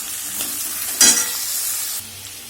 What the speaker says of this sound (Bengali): বেগুনটা দিয়ে দিয়েছি কিছুক্ষণ ভেজে নেবো